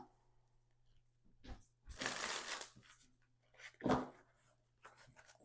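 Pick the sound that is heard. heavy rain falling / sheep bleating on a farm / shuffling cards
shuffling cards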